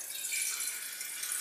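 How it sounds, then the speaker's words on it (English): Filtered water pouring for a coffee maker, a bright continuous hiss-like stream heard close up and steady for the whole moment. "Alright, then you take your water,"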